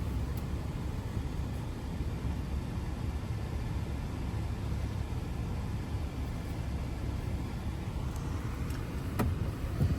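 A truck reverses into a parking spot between other trucks, with a steady low engine and road rumble throughout, fairly quiet and even, with no talking.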